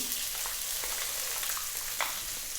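Chopped onion sizzles steadily in a pan with toasted garlic and cooked ginger for a Filipino chicken gravy, a constant close frying hiss broken by a few faint clicks of stirring, with no voices.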